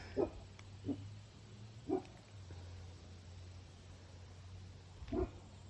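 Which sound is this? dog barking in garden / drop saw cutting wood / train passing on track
dog barking in garden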